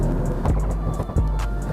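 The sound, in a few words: BMW M340i xDrive exhaust through aftermarket downpipe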